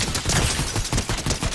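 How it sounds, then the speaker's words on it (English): Gunfire in the video game Fortnite, a dense, loud volley of overlapping shots in quick irregular bursts, heard alone without talk. "Oh, yep, getting shot at."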